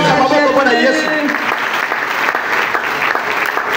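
A worship service congregation bursts into loud, sustained applause, dense clapping filling the space from start to finish, with some cheering voices mixed in.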